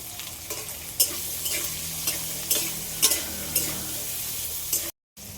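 Spices dry-roast in a hot pan: dry scraping and stirring with a soft sizzle, punctuated by several sharp clacks of a utensil at irregular intervals.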